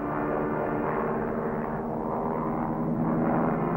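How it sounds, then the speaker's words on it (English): A plane drones steadily past overhead, a loud continuous rumble with a broad low hum that swells slightly toward the end, heard near a floating horned sea mine during a 1943 minesweeping operation. "Plane overhead."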